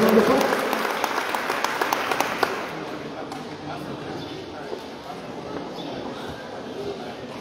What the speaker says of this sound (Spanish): Vamos a recibirlo con fuertes aplausos.